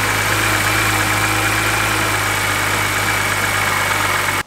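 A BMW engine idling with its intake scoop removed after valve cover and oil filter housing gasket work, a steady, close, even drone with a low hum that cuts off abruptly at the end.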